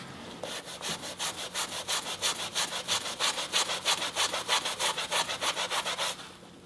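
A magic eraser scrubbing white shoes in quick, even back-and-forth strokes, a close, rhythmic rasping about four strokes per second that stops abruptly near the end, with no talking.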